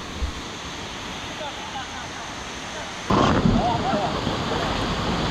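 Water rushing down stones at a river waterfall during white water rafting at Kuala Kubu Bharu, a steady broadband roar that grows suddenly louder and closer partway through, with no voices.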